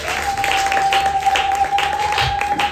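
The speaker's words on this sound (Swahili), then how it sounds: "Mpigie makofi mama." A church congregation claps for a woman during a lively service, a fairly loud, steady patter of many hands with a sustained tone running underneath.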